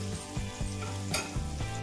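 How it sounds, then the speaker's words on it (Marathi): Okra (bhindi) frying in a pan over a low gas flame, with a steady close sizzle throughout and a few light stirring scrapes partway through, and no talking. "कमी गॅसवरती छान अशी फ्राय करून घ्यायची।"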